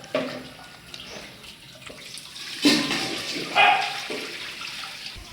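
Toor dal lentils being washed in water in a home kitchen for tiffin sambar: steady sloshing and splashing as the lentils are rubbed by hand, with a couple of louder swishes, close and continuous without speech.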